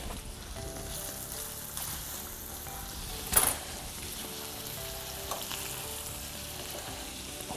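Skinned sausage browning in a frying pan for gnocchetti sardi with dried porcini, giving a steady close sizzle and crackle throughout, with one brief louder clatter of stirring partway through.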